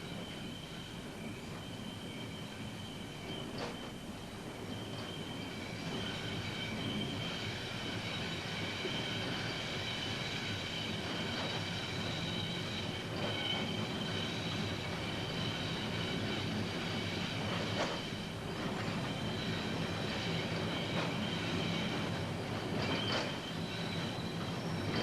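A freight train runs steadily along a Merseyside dock railway line near the Pico tunnels and Edge Lane Junction, a continuous rumble of wheels and wagons with faint squeals, holding at an even level throughout with no voices.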